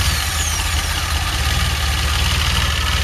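A car engine with K-Jet fuel injection, started by touching the jump start post, runs at a steady idle. It is loud and close, with a constant low rumble and a faint high whine, and no voices.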